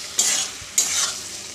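Food being stirred in a frying pan on a gas stove after salt is added, two short scraping strokes with a hiss, close and fairly loud.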